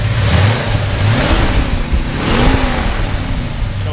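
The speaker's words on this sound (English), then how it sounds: "So go ahead and rev it up a little bit." A 1966 Ford F250 Camper Special truck engine idles loudly up close, then revs up with a rising, throaty roar before settling back.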